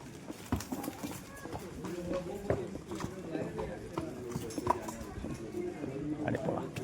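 Horse hooves clip-clop along an unpaved lane in Matheran, a hill town where vehicles are barred, with irregular hoof strikes moving at middle distance beneath someone talking and light outdoor bustle.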